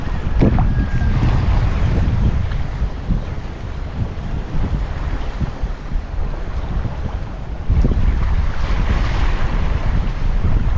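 Strong wind blows across the open sea off Palawan on a shallow-water fishing trip, with a steady roar of gusts and wind buffeting the microphone. Waves wash and slap around the boat beneath it, with no talk.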